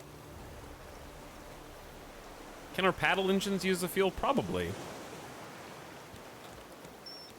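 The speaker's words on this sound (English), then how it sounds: "while it's raining, we don't have to water these" Steady rain hisses in the video game Raft, a continuous even wash that runs under a few seconds of conversational talk in the middle.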